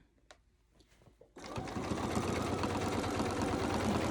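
A sewing machine stitching free-motion quilting starts up after a quiet stretch with a few faint knocks, then runs steadily and close at a fast, even hum for the rest of the clip, with no talking.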